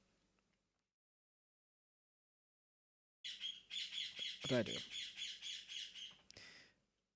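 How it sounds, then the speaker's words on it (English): A pet bird lets out a burst of loud, harsh squawks in rapid repeated pulses, close by, after a quiet stretch with a brief spoken line. "If you heard a bird, yes, you definitely heard a bird."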